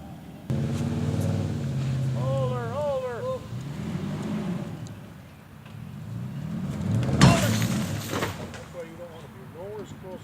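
Polaris RZR 1000 XP Turbo engine revving while towing a stuck Toyota pickup truck by strap, a rising and falling engine roar mixed with a sharp burst near the end, with people talking over it.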